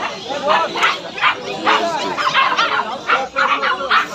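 A six-month-old German Shepherd barks in short bursts at Galiff Street pet market in Kolkata, close by and mixed in with people talking nearby.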